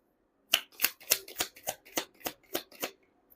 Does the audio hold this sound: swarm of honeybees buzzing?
no